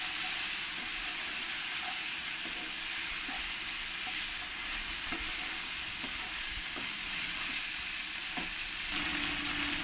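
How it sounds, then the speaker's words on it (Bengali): Alu matar pulao with turmeric and chili powder fries in a pan, a continuous loud hiss and sizzle with faint occasional scrapes of stirring underneath; no talk. "দিয়ে ভালো করে একবার আমি মিশিয়ে নেব।"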